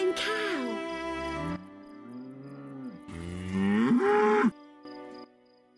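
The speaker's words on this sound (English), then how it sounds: "Look here, our champion cow." A dairy cow in The Witcher video game lets out loud, drawn-out moos up close, two long bellowing calls with a shorter low grunt between them, set against a faint background tone.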